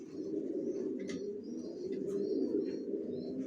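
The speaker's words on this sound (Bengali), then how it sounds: "এগুলো অ্যাডাল কবুতর, এগুলো রেস্টে রাখা কবুতর" Adult racing pigeons kept at rest in a loft coo continuously in low, rolling murmurs, steady and close, with faint higher chirps scattered on top and no talking.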